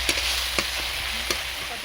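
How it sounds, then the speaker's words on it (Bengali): Spice paste for a crab and potato curry frying in oil with a little water added, a soft steady sizzle with a few quick spatula scrapes against the pan. "মশলা ভালো করে কষানো হচ্ছে, ওর মধ্যে আমি অল্প করে জল দিয়ে দিচ্ছি।"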